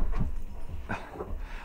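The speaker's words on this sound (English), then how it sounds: "Dog's playing with a bone." A dog playing with a bone makes soft gnawing and shuffling sounds nearby, with a few brief bursts over a quiet indoor background.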